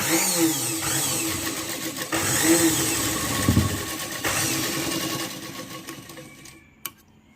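A sewing machine stitches a petticoat in fast continuous runs, a close mechanical whirring that pauses briefly now and then before stopping near the end.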